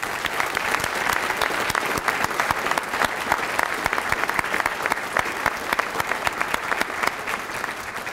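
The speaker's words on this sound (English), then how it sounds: "if I could get a round of applause for the patrol officers" A round of applause for patrol officers at a police services awards ceremony, sustained crowd clapping with crisp individual claps standing out, even and loud for the whole stretch.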